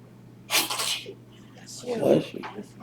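A single close, loud sneeze bursts out indoors during a watercolor painting demonstration, followed by a short voice responding.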